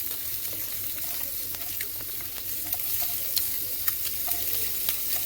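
Masala egg bites fry in a pan with a steady, bright sizzle and light crackle. Occasional pops and stirring scrapes come through at close range, with no talking.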